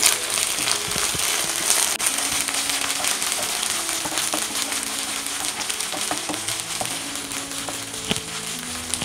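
Onions and ginger garlic paste frying together while being stirred, for sambar: a continuous close sizzle and crackle with scattered utensil clicks and scrapes, no talking.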